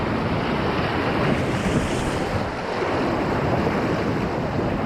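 Steady rushing roar of river water at a small wave on the Tellico River, loud and continuous with a broad, unbroken wash and no voices.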